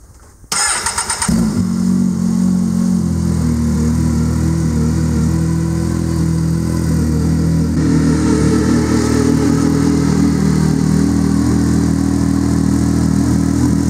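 A Can-Am Maverick X3 side-by-side with a 172 hp performance upgrade kit and a newly installed fuel pump cranks briefly, catches, and settles into a loud, steady, close-up idle rumble that runs without a break and with no voices.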